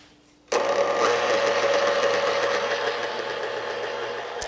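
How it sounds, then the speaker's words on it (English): A stand mixer kneading bao bun dough starts up abruptly after a short quiet moment, then settles into a steady, close motor whir and hum that continues throughout. "You can knead it by hand, but this is obviously a lot faster. We are gonna let this knead for anywhere from 5 to 8 minutes."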